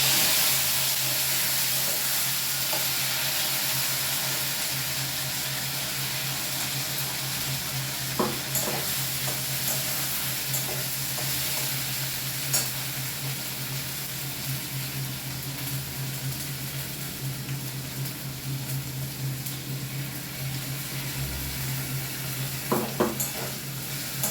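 A paste of ginger, ripe tomato, cumin and green chilli fries with already fried potatoes in a vegetarian dish, giving a soft continuous sizzle and hiss with occasional stirring clinks against the pan.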